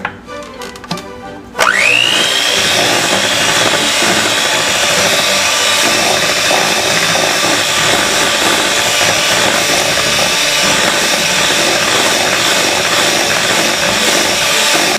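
An electric mixer beats cake batter for a pear upside-down cake with pear vanilla extract. A few clatters come first, then the motor whirs up and holds a steady, loud drone to the end.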